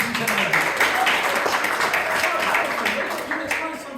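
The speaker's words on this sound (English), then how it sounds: "big round of applause for Jonathan, ladies and gentlemen" Audience applause and clapping for a volunteer at a live comedy hypnotist show, a steady dense wash of hands filling the room for several seconds with crowd noise mixed in.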